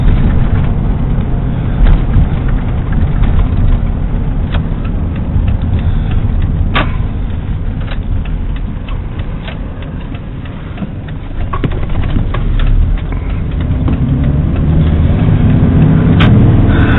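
Pickup truck driving with its engine running, a steady close rumble heard throughout.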